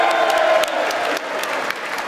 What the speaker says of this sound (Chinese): 国会议员起立鼓掌